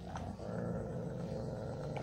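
Several dogs growl together in a steady, continuous low rumble, close by and fairly loud, while a woman hands out food to strays.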